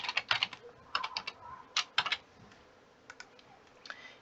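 Close, crisp keystrokes on a computer keyboard as a password goes in, quick bursts of clicks separated by short pauses, with a few scattered taps near the end and nothing else audible.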